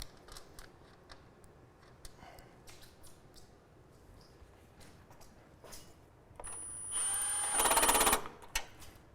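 A power tool bolts down a part on a BMW 530i or GM 4.2L engine during secondary air injection work: quiet clicks and handling noise first, then a loud buzzing run of the tool lasting about two seconds, close by.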